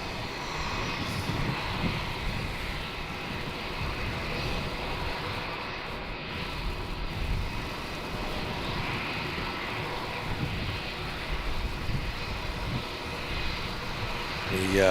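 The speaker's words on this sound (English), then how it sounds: "We're waiting for this Emirates 380 to taxi and depart." Emirates Airbus A380 jet engines at Melbourne Airport at night, a steady broadband roar with a faint high whine holding level throughout, while people talk over it.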